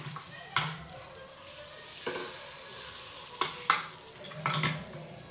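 Rava appe batter goes into the cavities of an appe pan one portion after another, each pour giving a soft wet plop and brief sizzle, with faint clinks of a spoon against the pan between them.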